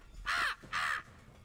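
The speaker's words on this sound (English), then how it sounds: "Pay the crows no mind." Two loud, harsh crow caws ring out back to back in The Elder Scrolls Online, each lasting about a quarter second, followed by quiet.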